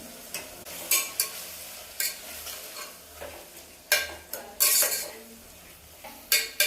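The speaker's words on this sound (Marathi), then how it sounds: "चला तर आपला मसाला सगळा व्यवस्थित भाजून झालेला आहे" Ground masala paste of garlic, coconut, coriander, green chilli and whole spices is stirred and roasted in a pan, with repeated scraping strokes of a spatula against metal over a soft sizzle. The strokes are close and irregular, and no one speaks.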